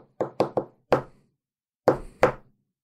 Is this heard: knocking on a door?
yes